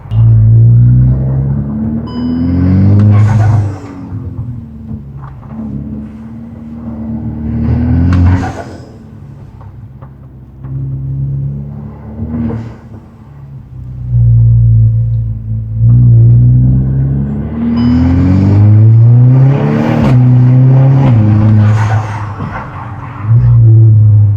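Volkswagen Golf R driving on an open road, its engine and exhaust rising loudly in repeated surges of acceleration with pitch climbing through each gear, then easing off between pulls, close and dominant.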